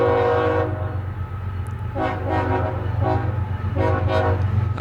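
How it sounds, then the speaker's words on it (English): A CSX freight train horn sounds a rhythmic shave-and-a-haircut pattern of short blasts over the steady rumble of passing rail cars, loud and fairly close, with no speech. "Oh, and a shave and a haircut salute."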